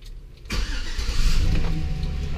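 A Chevy Silverado pickup with a new engine control module cranks briefly with slight hesitation, then fires and settles into a steady, close idle rumble with no talking.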